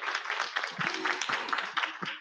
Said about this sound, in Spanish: De verdad, un aplauso para Marta.